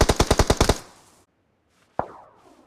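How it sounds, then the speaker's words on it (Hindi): Gunfire in the BGMI mobile battle royale game: a rapid burst of about eight loud automatic shots, then silence, then one sharp shot with a ringing decay. "इतने में राइट से फायरिंग होती है।"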